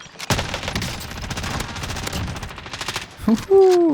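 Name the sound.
rapid gunfire in the video game Call of Duty Warzone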